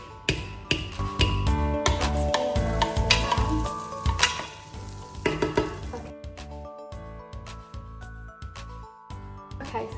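Butter sizzling in a pan over medium heat, a steady frying hiss under loud clattering and scraping of a utensil and pan, with rhythmic knocks throughout and the noise thinning toward the end.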